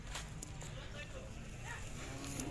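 A Khillar cow lowing at a village fair, a single drawn-out moo rising from steady crowd noise and chatter close by.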